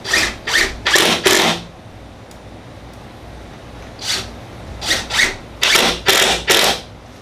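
Festool TID18 cordless impact driver sinking a couple of screws, heard as two clusters of short, loud, close bursts, about four quick pulses early and a longer run of five or six later, with a quiet pause between.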